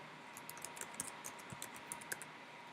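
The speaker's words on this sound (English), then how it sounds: "here's where you can type in the details of the assignment." Someone types on a computer keyboard, with a quick run of faint, close clicking keystrokes in a quiet room and no voices.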